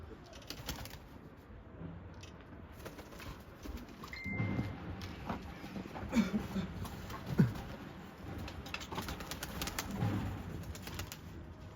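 Racing pigeon cooing in a loft, several short low coos spaced irregularly over steady background noise, moderately near, with no talk.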